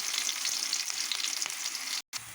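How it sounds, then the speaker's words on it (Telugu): Onions and green chilies frying in oil in a pan for a chicken curry, a close, bright, continuous sizzle with faint stirring, breaking off in a brief silent gap near the end before it resumes. "చూసారు కదా ఉల్లిపాయలన్నీ ఫ్రై అయ్యాయి"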